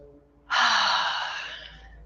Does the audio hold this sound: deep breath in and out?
yes